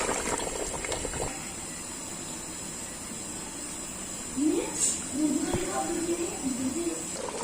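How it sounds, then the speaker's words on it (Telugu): Chicken simmers in a pot for a birthday meal, a steady soft bubbling hiss with a brief spell of louder gurgling near the end; a voice speaks over it. "చికెన్ ఉడుకుతుంది."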